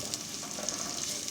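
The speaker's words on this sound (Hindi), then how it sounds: "प्याज को हल्का सा भूनेंगे।" Onions frying lightly with garlic in a pan, a soft, even hiss of sizzling oil with faint crackles throughout, quiet and unbroken by speech.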